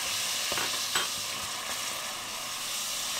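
Scraping and stirring of tomatoes and zucchini in olive oil in a sizzling frying pan, with a couple of soft utensil knocks over a steady hiss of cooking food.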